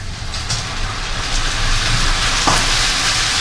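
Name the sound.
red wine (Merlot) boiling vigorously in the ragù pot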